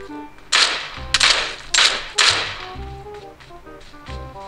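Gunshots in the mobile battle-royale game PUBG Mobile crack out in a quick irregular series of sharp, close, loud bursts, about eight reports with short gaps between them.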